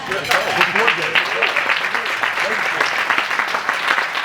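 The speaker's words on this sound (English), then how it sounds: "please, a round of applause" An audience at a HUD keynote speech applauds with steady, full clapping, while a voice carries on faintly underneath throughout.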